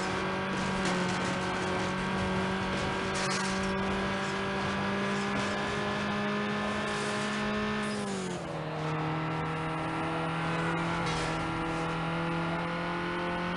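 A drift-prone car in Need for Speed Underground races with a loud, steady engine roar that holds pitch, dips suddenly as the revs drop, then climbs again, with tire noise mixed in.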